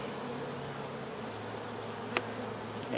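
Honey bees buzz steadily in an opened hive of a double-deep eight-frame honey-bound colony, a dense continuous drone with one brief sharp tap partway through.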